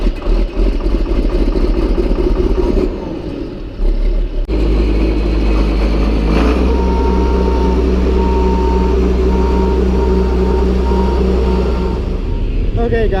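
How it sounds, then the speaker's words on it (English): A hay grinder engine on a farm runs at idle speed. It makes a steady, loud, low rumble, with a clattering rhythm and a brief shift partway through, and a voice speaks over it in places. "I got it running here, but I just wanted to show you guys. I just got it running at idle speed here"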